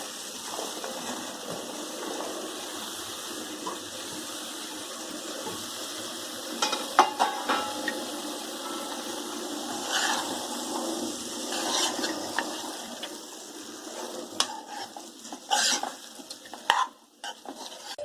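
A spoon stirs ridge gourd pieces with tomato and masala in a pan, scraping and shuffling in irregular bursts over a soft simmering hiss.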